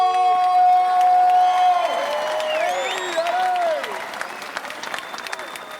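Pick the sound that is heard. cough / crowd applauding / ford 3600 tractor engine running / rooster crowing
crowd applauding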